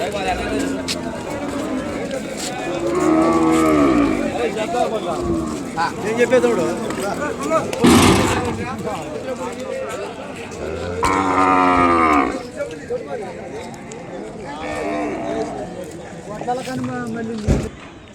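Young calves at a busy cattle market, several loud drawn-out moos, some near and overlapping, with birds cooing and someone talking throughout.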